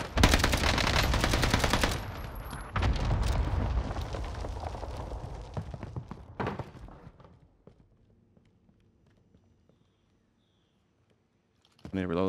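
Rapid automatic gunfire and heavy blasts from the Warzone shooter game play loud and continuous for several seconds, then thin out into scattered shots and near silence before a final burst at the end.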